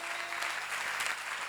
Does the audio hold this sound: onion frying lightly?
no